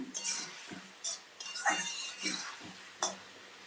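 A utensil stirs and scrapes chili paste, Kashmiri chili powder and turmeric in a pan, with a few metallic clinks and scrapes spread over a few seconds, close and fairly quiet.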